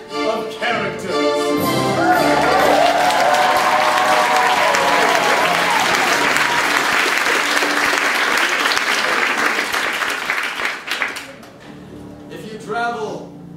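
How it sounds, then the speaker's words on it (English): An improv audience at a Dungeons & Dragons comedy show bursts into loud, sustained applause and cheering for the cast, clapping thick and continuous for about ten seconds before tapering off as a voice speaks at the end. "Cheer madly for the cast of characters."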